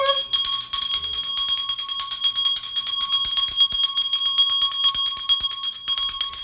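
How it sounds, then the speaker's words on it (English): A small handbell is rung rapidly and continuously, producing a bright, loud jingling with dense repeated strikes that carry clearly with little else around them. "I will be ringing my bell to introduce every segment"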